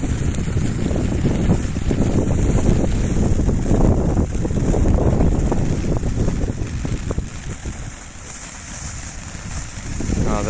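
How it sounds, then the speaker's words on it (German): Strong gusting wind buffets the microphone outdoors on a boat at sea, a loud, continuous low roar that swells and eases for the whole stretch, with faint water noise beneath and no talking. "gerade kommt ein bisschen heftiger Wind"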